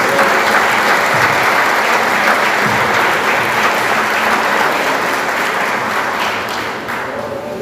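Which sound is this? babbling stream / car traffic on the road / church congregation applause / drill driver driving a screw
church congregation applause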